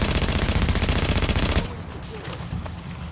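Dense rapid gunfire from the video game The Division rattles loudly for about a second and a half, then cuts off, leaving softer scattered game sounds.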